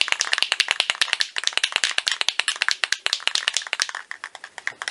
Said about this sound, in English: So what I do is I'll shake it up really good.